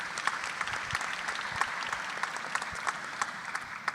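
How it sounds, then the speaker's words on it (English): A room of attendees at a maternal and infant health summit in DC applauds, a moderately quiet but continuous patter of many hands with scattered crisp claps standing out. "I think we need to give Mayor Bowser another round of applause for her great leadership."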